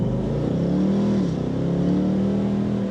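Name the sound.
Ford Mustang V8 accelerating from standstill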